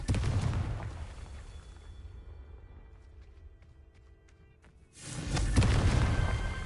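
A Confringo blasting spell explodes in Hogwarts Legacy: a loud burst that fades into a quieter lull with faint tinkling debris, then a second strong, roaring blast with crackle swells back in.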